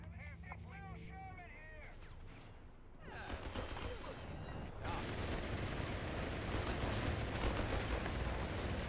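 Machine gun fire from Company of Heroes 3, dense rapid bursts and battlefield rumble mixed with explosions, growing louder and continuous toward the end, under an energetic casting voice.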